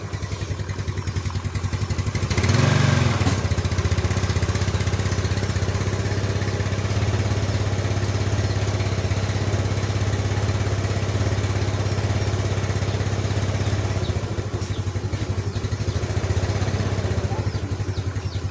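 A motorcycle engine catches with a brief loud burst of cranking and firing, then settles into a steady, close mid-pitched idle that runs on alone to the end.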